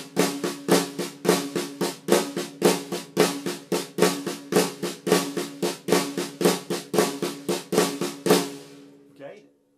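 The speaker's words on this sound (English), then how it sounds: "I'm going to use the seven note phrase within that subdivision" A drummer's hands play a seven-note Brazilian phrase in 16th notes, a quick alternating stream of close, crisp strokes with regular accents cycling evenly for about eight seconds before stopping, with no talking.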